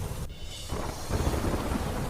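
Heavy monsoon rain pours steadily in Sawai Madhopur, Rajasthan, with a deep rumble of thunder rolling beneath the dense hiss, loud and close throughout.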